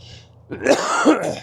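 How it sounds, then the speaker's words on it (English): A single rough throat clearing with a short cough-like burst, close and loud, lasting about a second. "trying not to cough, because this is crazy."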